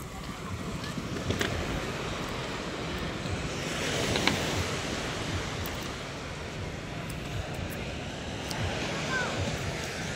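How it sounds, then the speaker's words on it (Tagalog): Large ocean waves wash and surge steadily at a fishport after a storm, with gusty wind over the microphone, a continuous loud rush with no talking. "Lalaki ng alon, no?"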